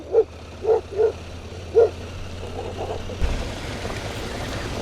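Dogs waiting to race bark four times in quick, close, loud yaps over a steady low engine rumble from an idling 2023 CFMOTO Ibex 800T motorcycle in the woods, followed by rising broadband noise.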